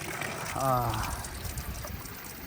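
Melamchi water pours into a container with a brief, gurgling trickle that rises in pitch as it fills, close and fairly faint, with people talking around it.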